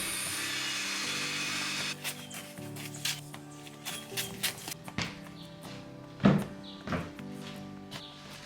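Sawing and trimming of wooden floor joists in a rustic workshop, with bursts of cutting, knocks and thuds of timber, and shuffling steps between them, close by and moderately loud.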